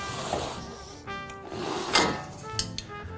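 A scored sheet of drywall snaps along its cut line, giving one sharp crack near the middle and a few smaller cracks and rustles after it, close and fairly quiet, with no talking.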